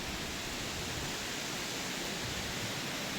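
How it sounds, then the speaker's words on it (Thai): Small Jet Khot waterfall in Chet Khot–Pong Kon Sao National Park flows with a steady, even rush of water that stays unbroken throughout, with no voices. "อันนี้ก็เป็น น้ำตกเจ็ดคดเล็กนะครับ"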